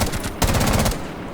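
Rapid automatic gunfire in Rainbow Six Siege, played on an Alienware 15 laptop: a loud, close burst that breaks off briefly, then resumes as a dense stream of shots and trails away toward the end.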